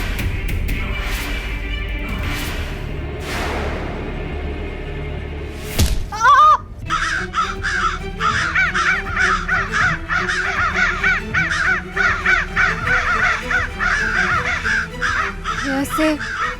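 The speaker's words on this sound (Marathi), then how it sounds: "अचानक इतके कावळे का उडतात आणि इतकी कावकाव का करतात?" A large flock of crows caws in a dense, overlapping chorus that breaks out suddenly and continues loud and close, following a stretch of people talking.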